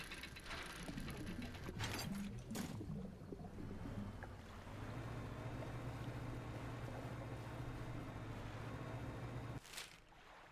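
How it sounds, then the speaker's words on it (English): A fishing boat in the game Dredge gives off faint, continuous mechanical creaking and ratcheting, like gears and wooden planks working, over a steady low hum with a few sharper clunks. "My boat is giving off different sounds, and it's fascinating."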